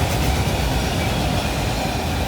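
A CSX auto train with a Southern Pacific DPU locomotive rolls past at night, a loud, close, continuous rumble of wheels and cars with no voices.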